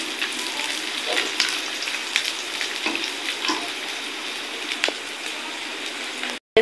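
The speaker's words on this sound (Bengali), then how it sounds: "দেখুন পেঁয়াজ রসুনটা ভাজা ভাজা হয়ে গেছে।" Onion and garlic sizzle steadily in hot oil in a pan, a close, continuous crackling hiss with scattered pops that cuts out for a moment near the end.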